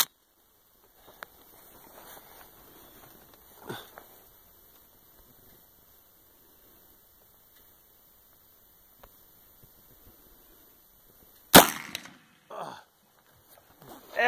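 A Marlin 1895 lever-action .45-70 with a 22-inch barrel fires one loud, sharp shot at a pylon about 80 yards away outdoors, with a brief echoing tail and faint handling noises around it.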